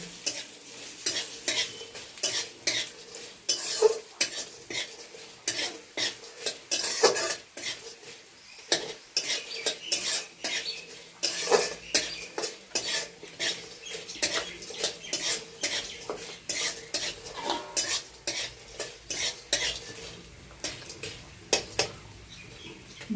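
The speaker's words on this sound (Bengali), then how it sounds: "বড়িটা খুব সুন্দর লাল লাল ভাজা হয়ে গেছে" Bori lentil dumplings frying in hot oil over a well-lit stove, with a spoon stirring and scraping the pan in irregular clinks and scrapes over a soft continuous sizzle, close by.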